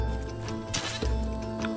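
A goat in Raft VR bleats once, a short wavering cry in the middle of a steady tonal game music bed, with a faint tick near the end.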